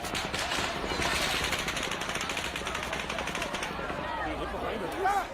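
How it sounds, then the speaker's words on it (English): Rapid, sustained bursts of semi-automatic gunfire during the Las Vegas active shooter attack crackle densely and continuously for several seconds, sounding distant and echoing, with a slightly louder burst near the end. "It sounds like fireworks, but if you've ever been around guns, it also sounds like the rapid fire of semi-automatic weapons"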